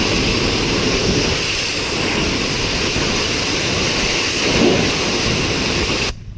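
A pressure washer rinses the bottom of a vinyl fence, giving a steady, loud broadband hiss and spray rush that runs unbroken for several seconds before cutting off abruptly near the end.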